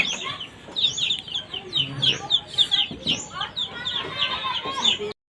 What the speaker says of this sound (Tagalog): Papakain ko yung mga manok, guys.